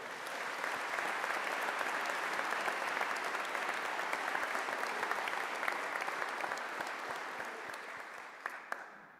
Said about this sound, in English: Please give a round of applause here.